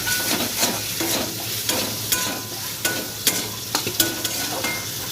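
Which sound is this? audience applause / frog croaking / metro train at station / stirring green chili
stirring green chili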